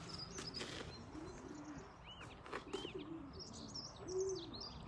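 Belgian racing pigeons in a loft give soft, low repeated coos amid faint chirps and occasional wing flutters, all quiet and somewhat distant.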